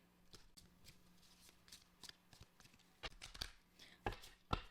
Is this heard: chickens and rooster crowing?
no